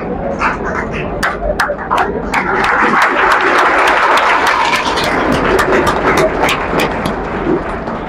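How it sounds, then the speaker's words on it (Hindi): Loud, close crowd applause at a prize distribution ceremony, a dense continuous patter of many hands with sharp individual claps standing out, sustained for the full eight seconds. "चलिए एक बार जोरदार ताली बजा दीजिए।"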